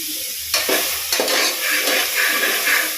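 Cloves and cumin seeds frying in a pan on low flame, a steady close sizzle broken by a few sharp scraping stirs of a spoon, no voices.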